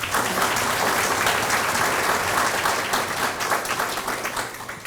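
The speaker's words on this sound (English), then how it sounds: "let's give our candidates a round of applause." Audience at a parish presidential forum applauding the candidates, dense, loud, sustained clapping that fills the room and tapers slightly toward the end.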